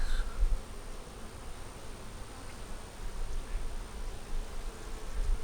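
Honeybees buzz steadily around an opened hive being checked and fed for winter, a dense continuous drone close by with faint rustling and no talking.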